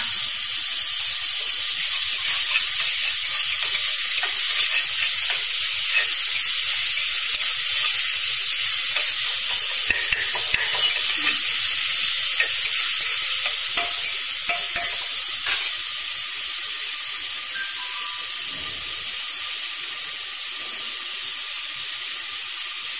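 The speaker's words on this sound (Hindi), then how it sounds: "एथर मु सेथिरे अदा रसुन पेस्ट गुडा पकाइ नेबी।" Ginger garlic paste and chopped tomato fry in a pan for a Kankada Jhola crab curry, giving a steady, close bright sizzle and hiss with occasional stirring scrapes throughout, no voices.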